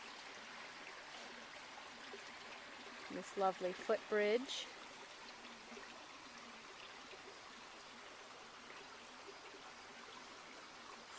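A bubbling, gurgling woodland stream on a cloudy August day, running as a steady broadband rush throughout, while a person speaks briefly over it.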